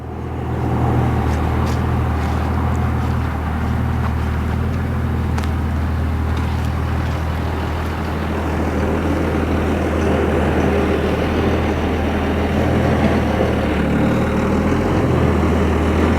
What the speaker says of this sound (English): I swear he knows how to back a trailer.